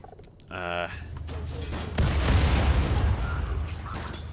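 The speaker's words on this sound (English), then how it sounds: "Oh, that's a big explosion." A large explosion in the colony-building video game Rimworld bursts out loud and near, a heavy rumbling blast with crackling that swells at about the midpoint and lingers, following a short tonal game sound at the start.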